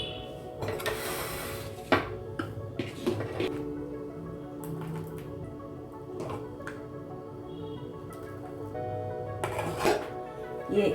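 A steel bowl and cooking pot clink and scrape in a home kitchen as sabudana kheer is put away, with scattered metallic knocks and rattles close by and faint talk now and then.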